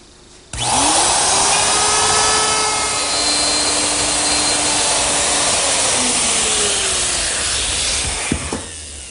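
A router cuts a slot for T-bolts in a router station top. It starts abruptly with a loud high whine, then settles into a steady grinding cut with slight pitch drift before stopping near the end.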